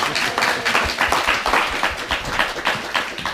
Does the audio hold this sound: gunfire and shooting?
no